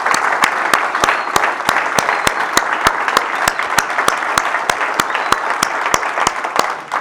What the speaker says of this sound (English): let's take a moment to give everyone involved in the completion of Project Vogel a great round of applause